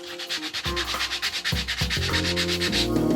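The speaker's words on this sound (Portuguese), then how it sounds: "agora eu tô lixando com a lixa de mão, abrindo um pouco essa tinta" Sandpaper rubbed by hand over old paint on wood, outdoors in hot weather, in a steady back-and-forth rhythm of rasping strokes, close and loud, with no talking.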